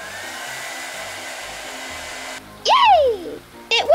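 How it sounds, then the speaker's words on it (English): Hair dryer used as a pet fur dryer in a toy-animal animation blows with a steady whirring hum for over two seconds, then cuts to loud whooshing bursts with sweeping tonal swoops. "Oh, Millie got the fur dryer."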